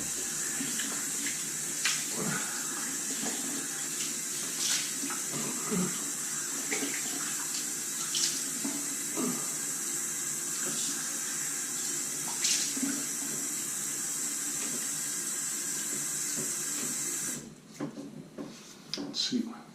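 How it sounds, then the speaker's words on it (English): Tap water runs steadily into a sink as someone rinses their face after a straight-razor shave, a continuous close hiss with small splashes and knocks, cutting off near the end to quieter handling sounds. "So I'm gonna wash off just a little bit and then go for a second pass."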